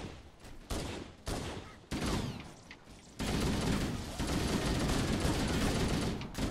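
Gunfire in Halo: Combat Evolved, with bursts of rapid shots and a sustained fusillade building to dense continuous firing near the end.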